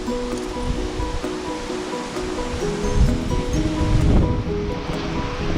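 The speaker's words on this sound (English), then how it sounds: "Water coming out of the South Fork." High river water rushing out of the South Fork at a head gate, a loud, steady roar of churning flow that swells slightly midway.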